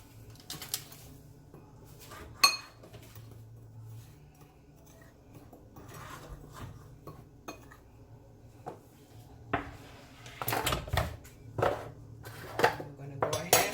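Seasonings for Jamaican-style BBQ pork ribs are combined in a bowl, giving quiet scattered clinks and taps of utensils on dishes that grow busier toward the end, with faint background hum.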